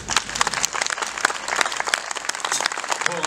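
Audience applauding musicians at a live concert in Montreuil-Bellay, a dense, lively burst of many hands clapping, loud and close, sustained for the whole stretch.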